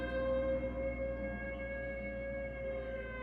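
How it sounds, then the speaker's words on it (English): A siren from the local IGA in Kerang wails steadily across the town in a sustained, droning tone that holds without pause and sounds somewhat distant. "a loud siren began to wail across the town"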